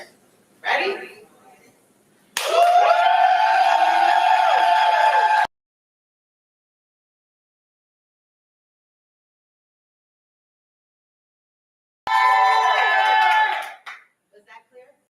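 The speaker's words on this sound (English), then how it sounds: "only cheer for who you want to win" Crowd cheering at a Berkeley poetry slam, a loud sustained roar of voices lasting about three seconds, followed by a long silence and then a second shorter burst of cheering.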